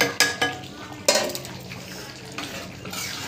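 A spoon stirs chicken kosha in a cooking pot, giving a few sharp metallic scrapes and clinks near the start, then softer stirring and a low sizzle.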